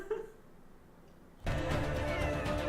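A cat meows in the Crimson Desert game trailer, a short cry rising over quiet background before a dense wash of music and sound swells in and covers the rest.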